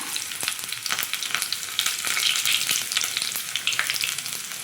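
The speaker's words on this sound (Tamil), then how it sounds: "பாத்திரத்தில் நான் ஆயில் ஊற்றி கடுகு பொரிஞ்சிருச்சு. இப்போ வெங்காயம் போட்டுக்கிறேன்." Chopped onion crackles in hot oil with popped mustard seeds for Tamil toor dal sambar, a close, busy sizzle with sharp pops and stirring scrapes, steady and without speech.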